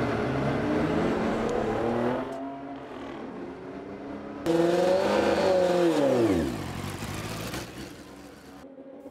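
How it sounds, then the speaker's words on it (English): A student-built race car, either combustion or electric, revs hard and accelerates, with a rising and then falling whine as it passes close by. The engine is loud and continuous, and no one speaks. "You stomp down on the pedal and you go faster than you ever have in your life."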